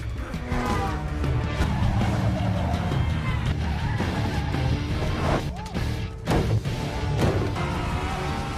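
A film action scene where two motorcyclists slam into a suddenly braking car: roaring engines, skidding and crunching impacts layered with music and effects, with a voice speaking over it.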